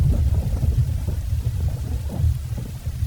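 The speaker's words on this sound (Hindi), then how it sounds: "तूफान की रफ्तार भी काफी बढ़ गई है। बिजली लगातार गिर रही है।" A thunderstorm with heavy rain: deep, continuous rolling thunder rumbles under a dense, steady downpour, loud and close with no voices.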